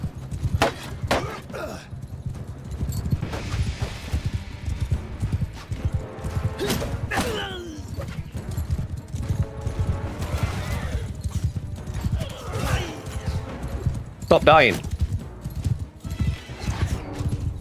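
Horses in the Mount & Blade 2 Bannerlord video game, with dense rapid hoofbeats of a galloping cavalry battle and several loud neighs, under a player talking.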